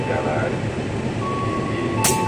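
A commuter train shunts on the adjacent track at Bogor station, giving a steady mechanical rumble with a thin electric whine, and a brief hiss bursts near the end.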